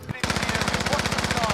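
Rapid automatic gunfire in Call of Duty Warzone, a steady stream of loud, closely spaced shots that starts after a brief lead-in and continues without pause.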